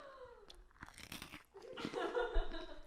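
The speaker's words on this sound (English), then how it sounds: "We can do who crunches louder." Someone bites and chews crunchy food loudly with the mouth open, producing close, dense crunching bursts, with brief laughter from others in between.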